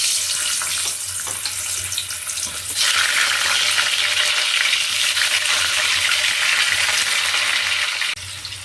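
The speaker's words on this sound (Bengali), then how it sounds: "তেল গরম হয়ে গেছে, এবার আমি আলুগুলো দিয়ে দেবো।" Potatoes drop into hot oil, and the steady frying hiss swells into a loud, dense, close sizzle that carries on evenly before easing slightly near the end.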